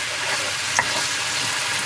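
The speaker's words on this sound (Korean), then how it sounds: "잘 볶아줍니다." Squid stir-frying in a hot pan for black bean noodles, giving a steady close sizzle with one sharp clink of the utensil midway.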